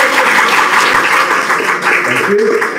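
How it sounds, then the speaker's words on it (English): Audience applause at a BDS white coat ceremony at Sri Ramachandra Institute, a steady wash of clapping from a large crowd, with a murmur of voices underneath. "kindly give some applause"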